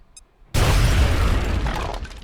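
A loud explosion blasts apart cover in XCOM: Art of War, bursting in suddenly after a quiet moment and rumbling on with crumbling debris for nearly two seconds.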